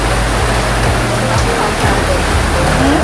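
Steady rain falls outdoors, a dense continuous hiss with a low rumble underneath that holds at an even level for the whole stretch.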